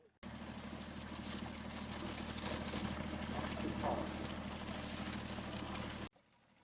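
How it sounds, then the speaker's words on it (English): A reed-cutting tractor working in a marsh gives a faint, steady low engine drone that holds evenly from start to finish at a distance, with no other sounds rising above it. "the quiet is broken by the sound of the cutting tractor"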